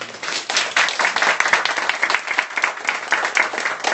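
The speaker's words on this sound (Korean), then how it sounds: "우리 축복의 박수 한번 합시다" A church congregation claps together in a dense, steady round of applause that holds at an even loudness for the whole span, with no voices over it.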